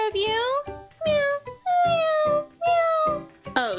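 A voice imitates a small kitten with about five high, drawn-out meows in quick succession, close and clear, with the last one rising sharply.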